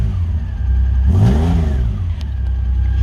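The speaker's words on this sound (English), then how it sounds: "She revs well." Reliant Scimitar engine revving up and settling back, a single rising rev around the middle over a steady low idle rumble, close and fairly loud.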